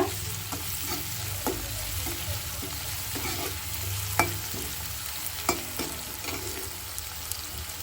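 Tomatoes with salt cook in a pan for a blue crab curry, giving a steady, soft sizzle broken by occasional spoon taps and scrapes, close up and without any talk.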